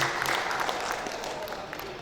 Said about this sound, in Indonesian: Sekali lagi kita beri aplaus kepada pengurus.